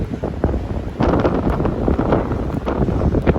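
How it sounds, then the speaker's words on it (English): Strong wind gusts roar and buffet the microphone continuously, swelling louder after the first second. "it's really getting windy up here"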